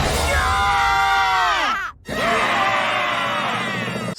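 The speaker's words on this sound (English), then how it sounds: "having all of the main and side characters screaming at each other" Cartoon characters from the Gravity Falls finale scream and yell at each other all at once, a dense wall of overlapping voices with a brief break near the middle.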